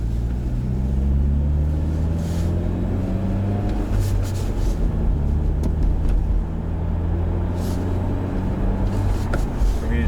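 A Genesis Coupe 2.0 with a manual gearbox makes a U-turn, its engine a steady low drone up close with a slowly shifting tone and faint road noise, no voices over it.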